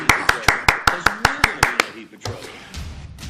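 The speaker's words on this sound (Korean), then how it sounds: "아버님께 큰 감사의 박수를 올리겠습니다" Rhythmic clapping from a church congregation honouring a religious leader, about ten sharp, evenly spaced claps over under two seconds, then fading into a murmur of voices.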